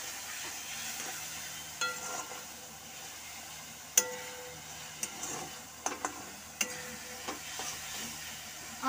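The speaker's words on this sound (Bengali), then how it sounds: "খুব হালকাভাবে এগুলো ভাজবো পুড়িয়ে যাতে নিচে লেগে না যায়" Quiet sizzle of ingredients gently frying in a pan for a Bengali meat curry, with soft scattered clicks and scrapes of a spatula stirring at intervals, no voices.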